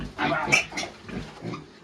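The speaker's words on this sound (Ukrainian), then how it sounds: "Свинка, да? Кричати будеш?" A piglet squeals during deworming, several loud, close, harsh bursts in quick succession.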